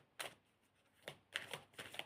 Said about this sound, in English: Why am I still shuffling?